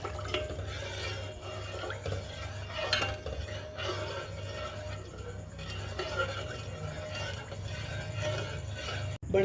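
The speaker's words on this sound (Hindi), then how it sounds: "चीनी को हमने अच्छे तरीके से दूध में मिक्स कर लेना है।" Sugar is stirred into milk in a pot, with a spoon scraping and clinking against the metal in an irregular rhythm. A faint voice is heard in the background.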